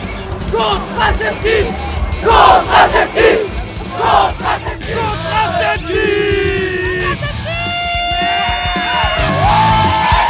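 A festival crowd shouts and cheers in loud, surging bursts, rising into sustained whoops and yells, with a voice talking close by at the start.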